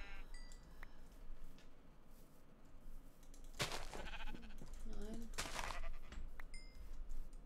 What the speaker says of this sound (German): wir bringen hier gerade die Schafe um